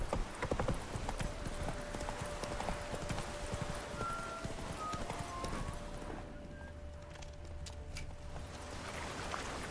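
Geralt's horse Roach from The Witcher 3 galloping: rapid, steady clip-clop of hooves throughout, close and fairly loud over a constant background hum, with a brief whinny-like tone partway through.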